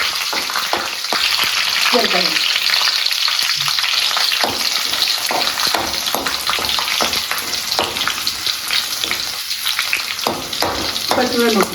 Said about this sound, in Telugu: నూనె మరిగిన తర్వాత కరివేపాకు, వెల్లుల్లిపాయ, జీలకర్ర అనేది వేయాలి